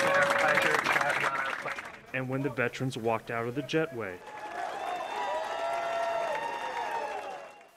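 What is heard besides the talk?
applause for veterans at airport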